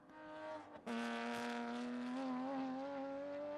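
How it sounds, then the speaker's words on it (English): A Porsche race car in a time attack session at Sonoma Raceway drives past loudly and close by. A sustained, rising engine howl with strong harmonics holds steady after a brief dip at about one second. "Here comes the Porsche again."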